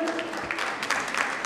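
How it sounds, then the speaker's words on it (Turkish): A brief burst of audience applause welcomes a guest speaker at a forum on EU migration policy, dense clapping through the whole short moment with a voice briefly mixed in. "Önce Sayın Yüksel'i bir alkışlarla alalım"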